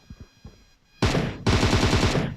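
Automatic gunfire in PUBG on the Sanhok map rips out in two loud, dense bursts with a brief gap between them, preceded by a few faint, scattered sounds.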